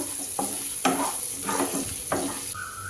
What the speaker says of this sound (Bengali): আদাটা দিয়ে দিলাম একটু ভাজা ভাজা করবো